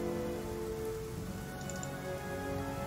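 Steady rain pours down in a video game setting resembling England, a dense, even hiss that runs unbroken and fairly loud from start to finish, with no voices over it.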